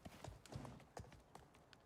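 Hooves of a horse in the survival game ICARUS clip-clop nearby in quick, uneven steps for a couple of seconds, distinct and fairly crisp against a quiet background.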